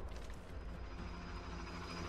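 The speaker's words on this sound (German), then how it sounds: "Oh, Hubschrauber." Helicopter in the shooter video game Borderlands 2, a loud dense rotor and engine roar with rapid chopping texture, steady and close for the whole two seconds.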